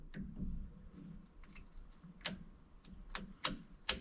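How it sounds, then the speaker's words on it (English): A torque wrench set to 20 inch-pounds gives a series of sharp, quiet clicks at uneven intervals while tightening on a 1997 Chevy pickup rear differential pinion, with the last two clicks the loudest. "not sure if you can see it or not, but the handle is clicking"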